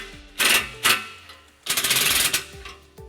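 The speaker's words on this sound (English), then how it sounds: "we're going to retighten that clamp using our 15mm socket" Ratcheting 15mm socket wrench tightening an exhaust clamp during a trailer hitch install on a 2015 Nissan Altima, heard as two short ratchet bursts followed by a longer rapid clicking run and a final brief burst, close and loud with no talk.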